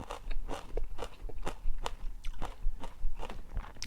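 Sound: crunchy chewing of spicy Thai rice noodle salad with beans

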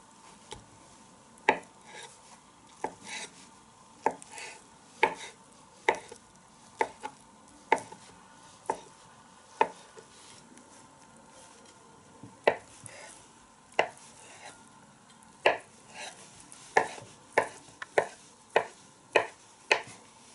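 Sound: knife dicing boiled eggs on board

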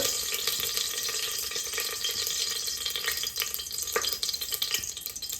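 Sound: mustard seeds frying in oil

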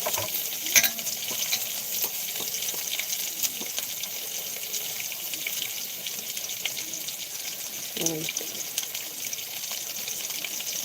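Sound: onions sautéing in a pan

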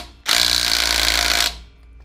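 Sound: Craftsman V20 impact driver loosening a lug nut

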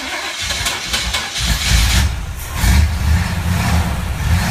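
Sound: small propeller plane engine starting up

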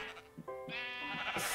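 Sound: sheep bleating in Minecraft video game

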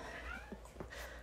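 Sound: cat meowing in the background

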